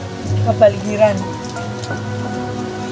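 Rain falls steadily on surfaces in a continuous patter while someone speaks over it.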